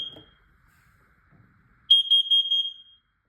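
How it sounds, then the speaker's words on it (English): A cat-shaped smoke alarm is tested, giving a quick chirp and then a burst of four loud, close, high-pitched beeps in a rapid pattern, with silence around them. "Okay, so we have the kitty alarm. So let's just test it."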